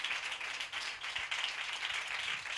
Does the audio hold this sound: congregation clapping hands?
yes